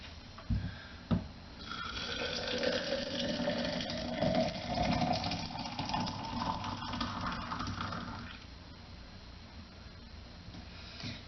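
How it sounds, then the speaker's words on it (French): Water runs steadily into a container for several seconds with a continuous rushing, gurgling sound whose tone rises gradually as it fills, heard close and moderately loud after a couple of brief knocks. "Puis, je vais remplir d'eau."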